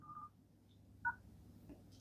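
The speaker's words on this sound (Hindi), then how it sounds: "आ जाते हैं डायल पैड में, और डायल पैड में मैं कोड को डायल कर देता हूँ।" Dial pad tones sound on an Oppo Reno 13 5G smartphone as a code is entered, a few short, clean beeps spaced apart against faint background hum.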